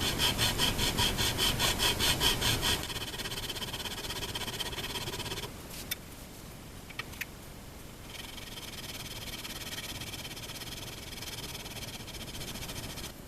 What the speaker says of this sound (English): put a piece of sandpaper on the fretboard and just work it down like this